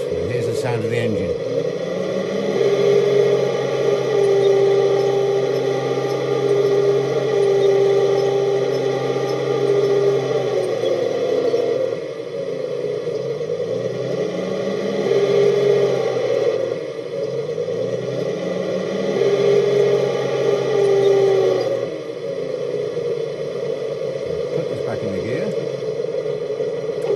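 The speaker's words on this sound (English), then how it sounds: "And here's the sound of the engine." A steady mechanical engine hum with a sustained whine from a Heng Long 1/16 scale Centurion model tank's sound unit, continuing for almost half a minute at a constant level. The pitch dips briefly now and then.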